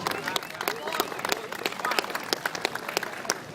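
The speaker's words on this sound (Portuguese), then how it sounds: "Então, mais uma salva de palmas aí para os companheiros." Applause from the audience at a union assembly, a steady wash of many hands clapping with sharp individual claps standing out, sustained through the whole stretch at moderate loudness.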